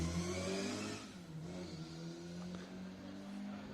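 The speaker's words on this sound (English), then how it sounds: "the straight cut gearbox in that lovely Mark I, singing away" A Mark I rally car with a straight-cut gearbox on an asphalt rally stage, its engine note and gear whine rising, then easing off into a steady drone as it passes at moderate distance.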